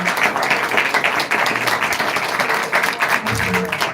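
A church congregation at a Sunday prayer meeting claps together in a dense, steady burst of applause that holds at full strength for the whole stretch, with a few voices faintly mixed in.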